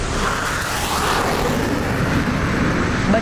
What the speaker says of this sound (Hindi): वो रहा विमान।